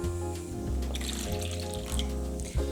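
Water runs into a bowl of pancake batter being mixed at home, a soft steady trickle heard close and alone, without voices.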